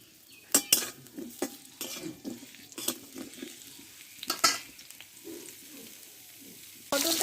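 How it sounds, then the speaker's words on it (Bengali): Pointed gourd (potol) sautéing in a little oil in a pan, with a soft sizzle under repeated scraping and clinking of a spatula against metal, bursts of stirring coming close and irregularly. "এবার পটলগুলো কষে নেবো"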